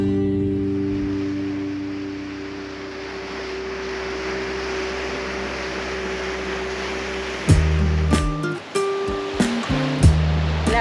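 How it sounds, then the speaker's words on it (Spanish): Sea waves wash steadily onto a small beach with a breeze blowing, a continuous broad surf roar throughout, with a few louder knocks and thumps near the end. "Lo único que oyes es el mar y la brisa."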